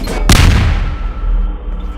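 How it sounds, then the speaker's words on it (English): A loud explosion in the Garry's Mod sandbox game, with a sharp blast that fades into a long rumbling tail over about two seconds. "That explosion had to happen."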